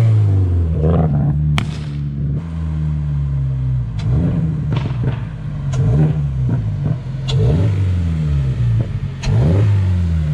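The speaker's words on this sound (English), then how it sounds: "That way you guys can kind of just get an idea of how the induction noises sound." Toyota GR86 / Subaru BRZ engine fitted with an aftermarket air intake, revved repeatedly in rising and falling pulls, with loud induction roar close by.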